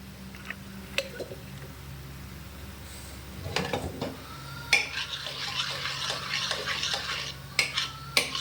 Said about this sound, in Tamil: சாப்பாடு எடுத்து வச்சுருக்கேன். நல்லா கரண்டி நம்ம மசிச்சுக்கலாம்.